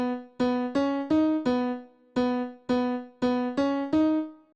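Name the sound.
grand piano playing vocal chop melody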